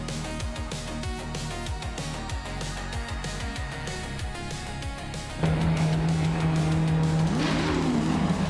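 Race cars, including an Aston Martin and a Lotus, roar past on the Autodromo de Antioquia track, a rapid run of loud passes giving way to a sustained engine drone with rising pitch.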